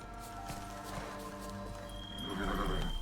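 A horse in The Witcher 3 on PS5, with soft rhythmic hoofbeats and a brief whinny over a steady ambient game score, swelling slightly toward the end.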